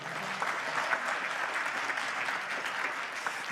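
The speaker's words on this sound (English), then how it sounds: "That was some nervous applause, right?" Audience applause at a university Three Minute Thesis live finals, a steady, moderately loud wash of clapping from a crowd that carries evenly through the whole stretch without talk over it.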